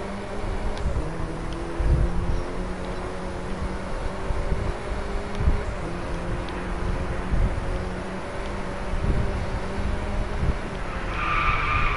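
A car drifts in a PS4 racing game, its tires skidding and squealing in long sustained bursts over a constant engine drone, loud and up front with no talk.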